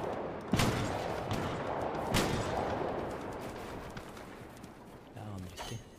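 Two sharp sniper rifle shots ring out in a first-person shooter game, spaced about a second and a half apart, each followed by a rolling tail, with a voice speaking briefly near the end.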